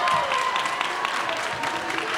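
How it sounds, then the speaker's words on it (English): At a middle school boys volleyball championship game, the crowd claps steadily for a player, moderately loud applause with a voice speaking over it. "number 14 for Huntington getting a clap from the crowd here"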